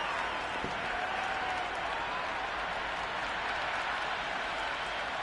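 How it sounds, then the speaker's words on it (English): Crowd at a cricket ground during a T20 match applauding, a continuous dense wash of clapping and cheering that holds at an even level throughout. "the crowd have joined the party. It's pretty noisy at the ground."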